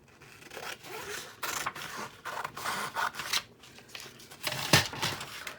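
Scissors cutting a piece off a sheet of paper for a pop-up twist card, a steady run of close, soft snipping and rustling strokes with paper handling throughout.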